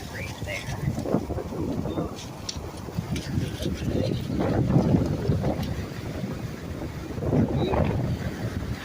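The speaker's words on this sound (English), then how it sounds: "It's pretty windy today" Wind on a Lake Superior beach buffets the microphone in rumbling gusts, surging and easing several times over a steady rushing background.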